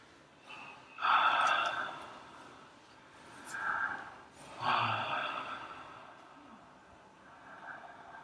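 Breaths from a client during a BBTRS bodywork massage session, three or four audible exhales rising and fading a few seconds apart, soft and close in a quiet room.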